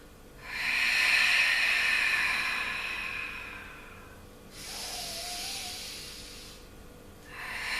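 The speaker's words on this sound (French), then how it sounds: "Vous entendez la respiration?" Slow, deep breaths during a Pilates exercise: a long, loud hissing exhale, a quieter breath in, then another exhale starting, each drawn out and close to the listener.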